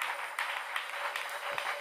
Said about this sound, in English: Clap your hands for the Lord.